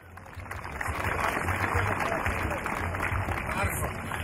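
Audience applause at a folk music performance in Dalbok Izvor in 2013: a dense, steady wash of many hands clapping that holds for several seconds, with voices mixed in.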